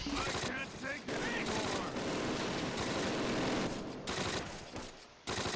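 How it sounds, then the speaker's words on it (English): In the wartime strategy game Close Combat: Last Stand Arnhem, an MG42 machine gun fires long, rapid, crackling bursts that run almost continuously, loud and close, with brief pauses between volleys. "if you move when they've got an MG42, that's it"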